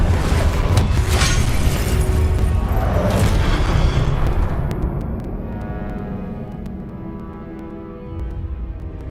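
A Confringo spell explosion in Hogwarts Legacy, a loud, heavy booming blast with crackling debris that rolls on for several seconds before fading into a lower rumbling tail.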